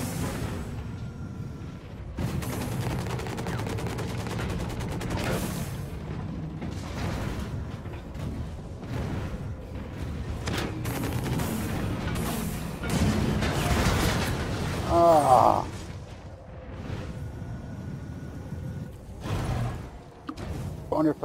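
Grenade launcher on a Brawler mech firing lobbed grenades in the online mech shooter HAWKEN, heavy mechanical thumps and booming blasts at intervals over a steady engine hum, with a player talking throughout.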